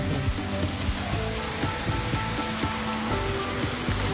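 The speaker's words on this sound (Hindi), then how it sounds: "बारिश आ रही है।" Rain falls steadily in Manas National Park, making a dense, continuous hiss that fills the scene at a fairly loud, even level from start to finish.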